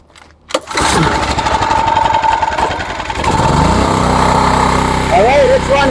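A portable generator engine cranks and catches, then runs loud and steady with a slight shift in pitch as it settles, close by, a voice briefly audible.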